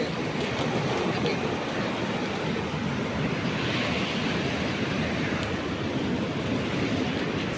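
Steady surf of Arabian Sea waves rolling onto Anjuna Beach in Goa during the monsoon, a continuous broadband wash that holds at an even level for the whole stretch with no voices.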